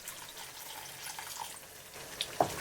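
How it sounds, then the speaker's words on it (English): Water poured into a pan of tomato and marinade sauce for chicken tikka masala, a soft faint trickle with a few small drips and splashes near the end, no talk. "Add 10 centiliters of water."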